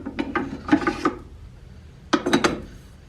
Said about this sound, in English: I'll have to do a little bit of wet sanding on the inside of the mouth